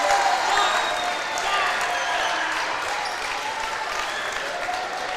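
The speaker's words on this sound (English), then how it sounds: "And look at Beeston telling the crowd, let's go, let's hear it" Crowd in a gym at a high school boys basketball game cheering and applauding, a dense roar with whistles and squeaks throughout.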